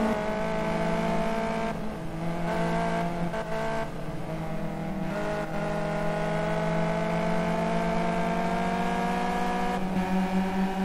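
A race car engine in the Simraceway racing game holds a loud, steady high-revving drone throughout, with brief dips and rises in pitch as the throttle eases and builds, heard alone with no talk.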